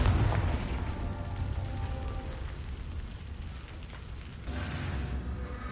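A blasting spell goes off in a video game, a loud broadband boom that rumbles and decays over several seconds with a second swell of noise near the end.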